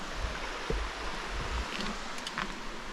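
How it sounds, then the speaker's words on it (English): Little Roush Creek running beside a woodland trail, a steady broadband wash of flowing water, fairly soft and continuous, with a few faint knocks and rustles on top and no talking. "Coming over Roush Creek here. Little creek running down."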